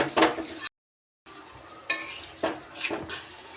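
Spoon scraping and clinking against a pan while wild mootipazham fruit pickle is stirred, a few short close metallic strokes broken by a brief silent gap, with no voices.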